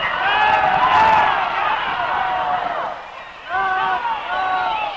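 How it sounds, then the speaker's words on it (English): A 1950s Hollywood television professional wrestling crowd roars and shouts in a steady din, swelling and dipping, under an announcer's commentary. "the crowd calls for Juan Sepeda to tear them apart"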